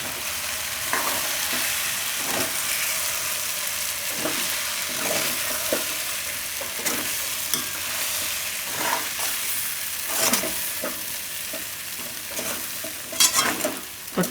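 Poha with tomato and other ingredients being stirred and mixed in a hot pan, a continuous hiss of frying with frequent scraping strokes of a spoon, building to a cluster of quick clatters near the end.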